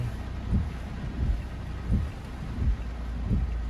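Steady rain noise with soft low thumps and rumbles recurring every half second or so, no voices.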